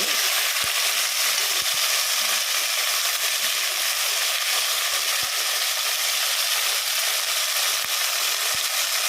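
Nalleru (Cissus quadrangularis) stems fry in hot oil in a pan, a dense, steady sizzle that runs unbroken throughout, close and loud, with a few faint taps from stirring.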